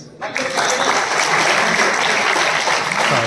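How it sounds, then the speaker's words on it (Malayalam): Dense, sustained applause from a theatre audience at a Malayalam movie promotion, a broad steady roar of clapping that swells in after a brief quiet start and holds loud throughout. "നല്ലൊരു കൈയടി."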